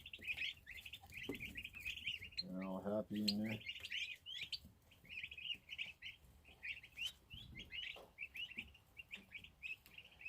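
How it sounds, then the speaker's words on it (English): A crowd of about 25 young white turkey poults in a farm pen keeps up constant high chirping and peeping, with a voice speaking briefly over them. "we also got 25 white turkeys today"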